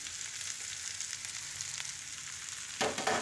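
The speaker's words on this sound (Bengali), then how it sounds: "এবার আমি এটাতে চিড়েটাকে আমি অ্যাড করব।" Flattened rice (poha) frying in a pan with vegetables and peanuts gives a steady, close sizzle, with a louder, busier crackle near the end as the rice goes in.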